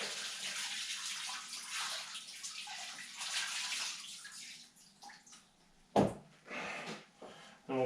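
Pickling solution is squeezed and wrung out of a large tanned otter hide, giving a run of wet splashing and dripping with sloshing surges and a sharp splash near the end, close by and with no talk.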